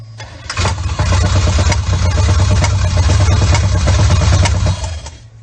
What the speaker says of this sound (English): here's a little video of it popping through the carburetor due to the rocker stud backing out on one of the exhaust valves